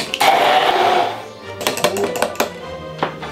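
A small kitchen mixing machine whirs through a chicken marinade with citrus zest, one loud buzzing burst followed by a stretch of clattering taps and knocks from the container.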